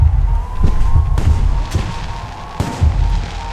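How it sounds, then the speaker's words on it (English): Fireworks burst repeatedly in the video game Alpha Protocol, several loud booms and crackles rolling over a continuous low rumble of game ambience. "The noise from those fireworks should cover the sound of gunfire."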